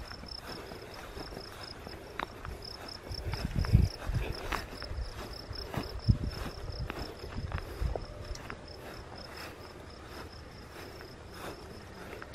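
Crickets and other insects chirp in a steady, faint outdoor chorus, with some soft rustling and footstep-like thumps in the middle.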